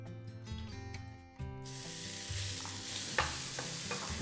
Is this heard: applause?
no